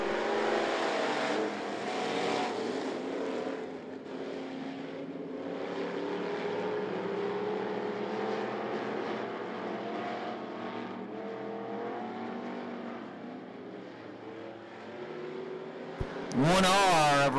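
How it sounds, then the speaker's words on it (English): Race cars on an oval track at I-75 Raceway roar past steadily for about sixteen seconds, a loud, continuous layered engine drone under a green-flag restart, ending with a sharp, rising engine swell. "Russell and Walker leading the field into four, leading the field out of four to Green Flag Racing"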